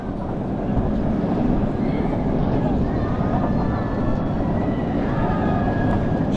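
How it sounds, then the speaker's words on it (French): Strong wind buffets the microphone at a high outdoor spot in an amusement park, a continuous loud roar with faint voices beneath it. "Oh le vent."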